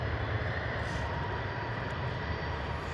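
An EasyJet airliner taxis out of a holding area, a steady, dense engine roar that stays constant and fairly distant, with no voices.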